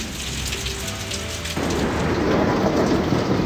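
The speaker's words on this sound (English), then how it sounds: "You can see the rain falling." Steady rain pours down during a thunderstorm, the hiss thickening and growing louder about halfway through, with low thunder rumbling beneath the downpour.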